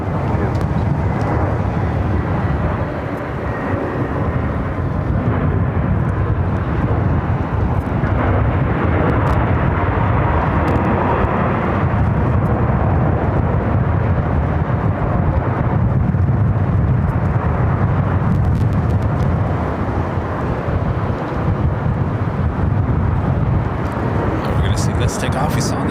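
A United Airlines 787-9 Dreamliner in SAF livery, flight 198 to Shanghai, takes off from LAX in extreme winds, producing a loud, continuous low jet roar that holds steady throughout, with people talking over it.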